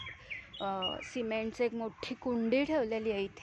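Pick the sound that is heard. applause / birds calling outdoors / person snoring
birds calling outdoors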